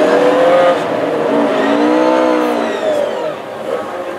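Hot rod race cars circle a floodlit oval on the rolling lap before a championship final at Northampton, engines droning and revving loudly and close by as the pack passes in a continuous roar.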